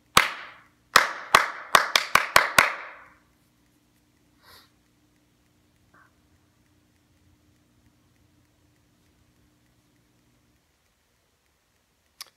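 A teacher claps out a rhythm dictation for a class: seven sharp, close hand claps in an uneven pattern, then long near-silence with a couple of faint distant noises.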